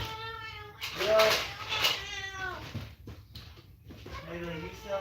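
A young girl imitates a cat, giving several drawn-out, wavering meows at close range, one after another, with brief pauses between them.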